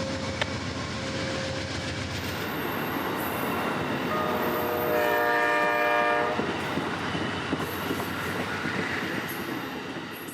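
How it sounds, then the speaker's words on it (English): Northbound Amtrak passenger train approaching the Auburndale diamond in Central Florida, its horn sounding in a loud sustained chord midway over a steady rumble of rail noise and wheels. "I'd hear northbound Amtrak number 40, the old 92, approaching from the south"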